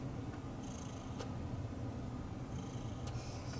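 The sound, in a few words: cat purring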